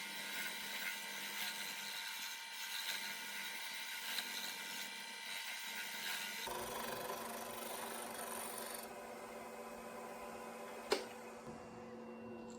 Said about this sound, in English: I like to finish my rounding with some light peeling cuts with the skew chisel